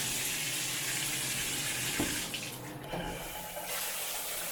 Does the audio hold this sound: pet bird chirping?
no